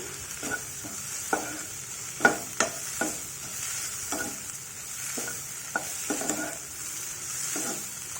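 Chopped garlic pieces frying in tempering oil for an amla ginger pickle give a soft sizzle, with irregular clinks and scrapes of a spoon stirring in the pan close by.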